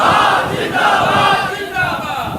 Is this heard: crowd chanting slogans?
yes